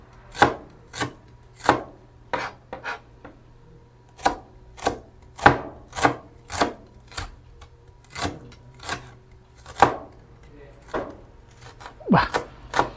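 Onion being chopped on a board with a knife, a series of sharp close chops at an uneven pace, roughly a dozen strikes with short pauses between, over a faint background hum.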